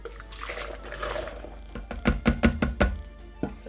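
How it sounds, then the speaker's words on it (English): Crème brûlée custard mixture is poured into a measuring cup, a soft liquid pour followed by a quick series of sharp knocks and taps of the container. "So I'm going to pour this mixture into a measuring cup."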